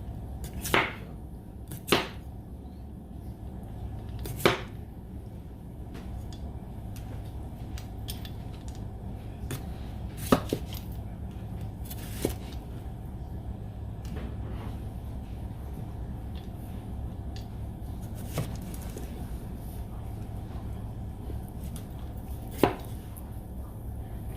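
Potatoes being cut with a knife on a board, sharp, close chopping knocks arriving at irregular intervals several seconds apart over a low kitchen background hum.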